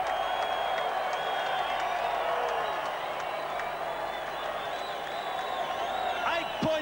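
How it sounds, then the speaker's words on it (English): Rugby test crowd at Palmerston North cheering and applauding in a steady wash of distant noise, with a commentator's voice over it. "The crowd on their feet at long last at Palmerston North."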